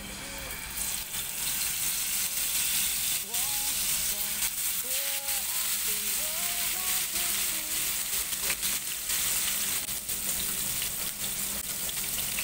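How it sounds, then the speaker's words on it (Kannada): Fish sizzling and crackling steadily in hot oil over a low flame for a Kerala-style fish curry, a loud continuous fry with a few brief background tones and occasional stirring. "ಫಿಶ್ ಫ್ರೈ ಮಾಡೋಣ"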